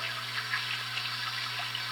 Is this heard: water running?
yes